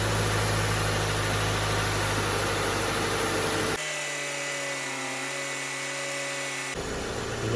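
A car's air-conditioning compressor running with the engine idling while the AC system is recharged with refrigerant, a dense steady mechanical hum and whine, loud and continuous with a slight change in tone partway through, no talking.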